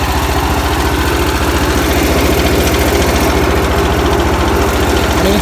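A 1978 IH Cub Cadet 1000 tractor that had sat unused for 20 years idles after being revived, giving a loud, steady, close engine rumble with an even pulsing beat throughout and no talking.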